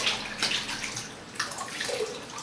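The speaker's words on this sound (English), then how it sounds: "So to finish off, wash that brush out." A shaving brush is rinsed under a running tap after a shave, giving a steady close splash of water that rises and falls as the bristles are worked under the stream, with no talking.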